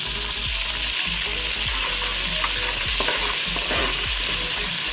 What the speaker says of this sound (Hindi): हम लोग थोड़ी देर ही ऐसे चलाएंगे और इसमें मैं अदरक लहसुन का पेस्ट डाल दूँगी।